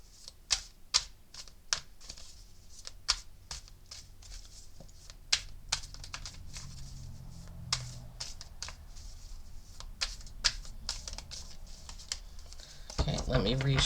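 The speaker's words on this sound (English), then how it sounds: "I have to just reshuffle the deck." A deck of tarot cards is shuffled by hand, giving sharp, irregular taps and flicks close by over a steady background, with a voice speaking at times.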